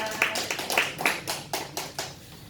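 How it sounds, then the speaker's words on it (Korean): Korean church congregation clapping together in a steady, even rhythm, about eight distinct claps in a row, fairly faint and without talk over them. "하나님의 은혜에 감사하며 우리 박수 한번 올려드리겠습니다"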